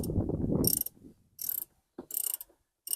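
Socket ratchet tightening a battery terminal on a Jeep Wrangler, short bursts of rapid clicking separated by brief pauses, close and distinct, with a dull mechanical clunk at the start.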